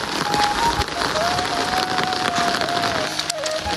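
Light rain patters steadily outdoors in a village near a bridge, a soft continuous hiss with a faint tonal whine running through it.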